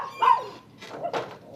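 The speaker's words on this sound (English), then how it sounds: "of course, the dog's barking" A Chihuahua named Gizmo barks outdoors, giving a few sharp yips spaced apart at moderate distance, with short gaps of quiet between the barks.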